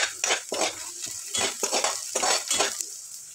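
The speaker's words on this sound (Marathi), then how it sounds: "मिक्स करून घेते." Onions and salt stirred in a frying pan for cabbage bhaji, a spoon or spatula scraping the metal in a steady run of rhythmic strokes, close and fairly loud with a faint sizzle underneath.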